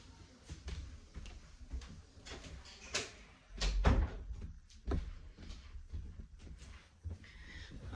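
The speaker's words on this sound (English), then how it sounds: "I'm going to have to close that door" A door is pushed shut in a quiet indoor room with a faint, scattered run of soft knocks and rustling handling. One heavier thump lands partway through.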